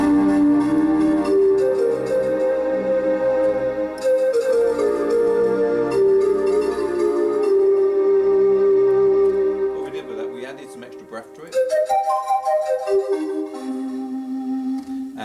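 Breathy panpipe preset on a Lowrey SU home organ plays a sustained, flowing melody with chordal backing, holding steadily for about ten seconds, briefly dropping, then resuming with a rising glide into higher held notes.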